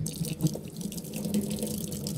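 Tap water streams over a fishing reel being rinsed, a continuous splashing hiss with small spattering bursts as the reel moves under the flow, close and clear.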